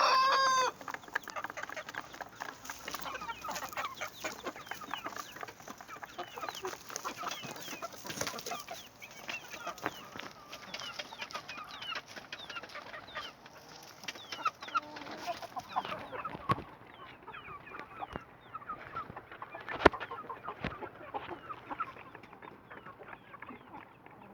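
Brahma and Buff Brahma chickens and roosters in a coop cluck and call repeatedly, with occasional crowing, close by and fairly faint, carrying on without talk.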